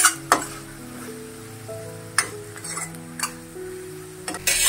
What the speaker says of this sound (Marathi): पुन्हा भाजी हलवून घ्यायची